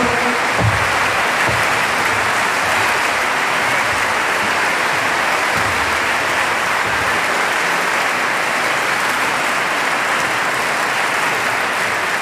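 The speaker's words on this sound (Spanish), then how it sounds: "con ese fuerte aplauso para los organizadores" Loud, sustained applause from a large crowd, a dense steady roar of clapping that continues without letting up.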